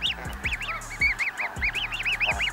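Snow geese honking in a rapid series of loud, close, nasal calls, repeated many times in quick rhythm with no talk over them.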